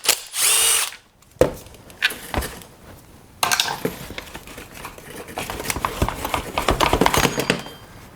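A power driver whirs in several short bursts, backing a screw out of the housing of a STIHL FS91R string trimmer during a clutch repair, with ratcheting and clicking handling noises between runs, close and fairly loud.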